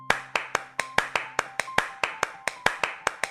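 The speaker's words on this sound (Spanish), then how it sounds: "¡Aplaude hasta que te diga que pares!" A single person claps hands in a steady rhythm, about fifteen sharp, close claps evenly spaced over a few seconds, with a faint tone in the background.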